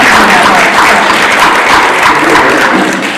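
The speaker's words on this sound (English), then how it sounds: "So just a quick round of applause for that" A seminar audience gives a quick round of applause, a loud, continuous crowd clapping that stays full and even for a few seconds.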